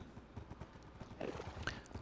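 Horses in Minecraft clip-clop in a soft, steady rhythm of hoofsteps, faint and close together, with a brief whinny-like tone near the end.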